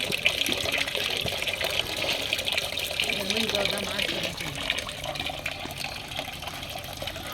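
Water splashes and gushes steadily over fish being washed in a village kitchen, a continuous pouring rush with someone talking over it.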